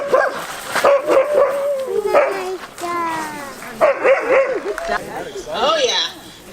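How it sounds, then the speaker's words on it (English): Many sled dogs in Alaska bark, yip and howl excitedly together, a loud, overlapping chorus close by, with human voices mixed in. "Oh yeah, they were excited to go."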